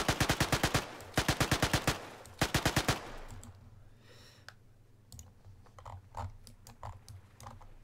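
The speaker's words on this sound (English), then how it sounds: "Next kind of gear, the MK2 Sten." A MK2 Sten submachine gun in the Arma 3 mod IFA3, firing three quick automatic bursts, crisp and close, followed by quieter clicks and handling noises over a low hum.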